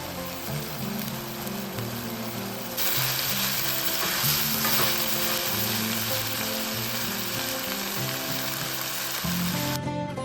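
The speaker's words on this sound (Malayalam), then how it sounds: "ചെമ്മീൻ പകുതി വേവാവുന്നവരെ നമുക്കൊന്ന് ഫ്രൈ ചെയ്ത് കൊടുക്കാം." Loud, continuous sizzling of prawns frying in hot oil, a steady crackling hiss that swells slightly partway through, with no voices.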